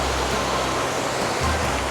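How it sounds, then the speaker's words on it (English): Steady broadband rush of clear water cascading down a waterfall beside a shady trail near Mount Baker, Washington, continuous and fairly loud with no voices. "very clear water, waterfalls cascading"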